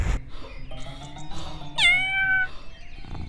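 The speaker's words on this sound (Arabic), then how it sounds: "يا لك من قطة جميلة" A domestic cat gives a clear, fairly close meow with a rising then falling pitch, heard once in a quiet indoor setting with no talking over it.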